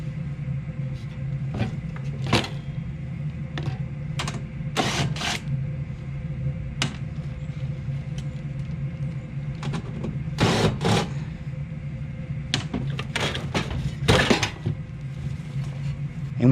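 Screws are backed out of a side panel on a Carrier furnace during a heat exchanger replacement, heard as several short, sharp bursts and clicks spread across a steady low hum.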